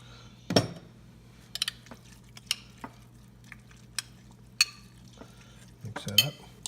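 Soup ingredients and kosher salt are stirred in a bowl with a utensil, sparse clinks and scrapes against the sides, fairly close, with quiet gaps between strokes.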